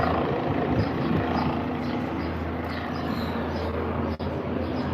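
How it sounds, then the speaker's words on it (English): Helicopter holding steady over the Bronx, a continuous low rotor rumble and broadband whoosh filling the clip at steady, fairly loud level with wind noise, no talking. "I wonder who that helicopter is looking for"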